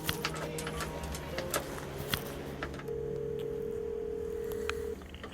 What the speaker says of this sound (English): The gentleman here would like to make a very important long-distance phone call.